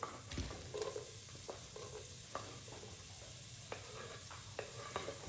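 One small chopped onion frying in melted butter in a pot, a soft steady sizzle under quiet clinks and scraping as it is stirred around, with a few sharper knocks against the pot.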